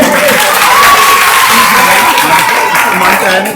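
A crowd of children clapping loudly and continuously at a Babasaheb Ambedkar Jayanti gathering in Kailash Nagar, Ghaziabad, a dense, steady wash of applause with scattered young voices mixed in.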